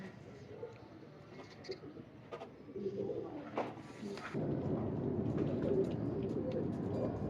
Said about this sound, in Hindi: ये कबूतर है जी बेटे टैडी फिरोजपुरी, ये भी मिसे जालदार है, ये बहुत ही लाजवाब कबूतर ह